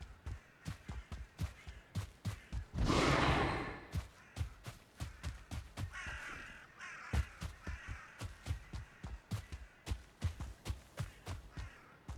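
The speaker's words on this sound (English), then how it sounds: "Heading towards the sound of these crows." Crows cawing in the Viking survival game Valheim, a series of harsh caws repeating in an irregular rhythm over the steady thump of footsteps, with a brief rushing burst partway through.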